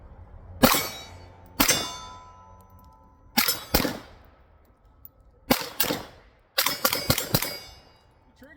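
A Girsan 2311 Match X pistol fires steel-cased ammunition from a steel magazine at a range, heard as sharp close shots: two single shots, a quick pair, another pair, then a rapid string of four or five.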